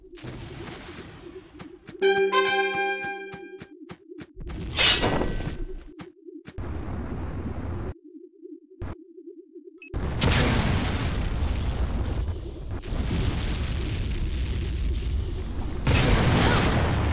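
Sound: enemy generator destroyed explosion in Tribes 2 video game

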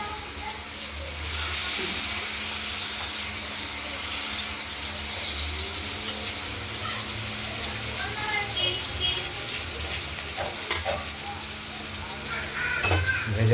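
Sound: katla fish pieces frying in oil in a wok

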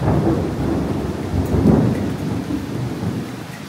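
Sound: thunder in heavy rain

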